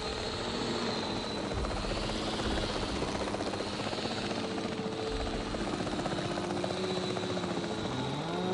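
A capture team helicopter in Jurassic World Evolution 3 drones steadily with rotor thrum and a whining engine, loud and continuous, shifting slightly in pitch toward the end.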